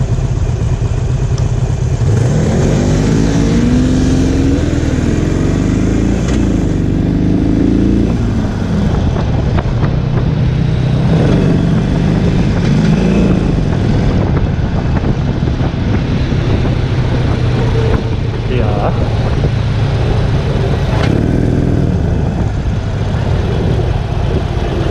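A motorbike-like engine accelerating hard at full throttle on a country ride, a loud continuous roar with rising and falling pitch sweeps and strong wind rush, close and alone without talk.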